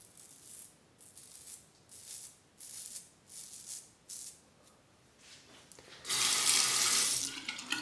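Tap water runs to rinse during a shave with a Dovo Shavette straight razor, first as short, soft splashing bursts, then as a loud, steady gushing stream near the end.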